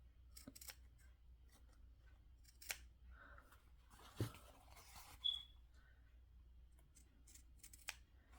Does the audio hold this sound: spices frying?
no